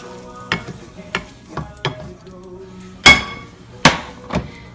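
Cooked, caramelized vegetables are tipped into beef juice in a pot, a string of sharp metallic clanks and thuds of a spoon against cookware with a soft sizzle between them, close and loud.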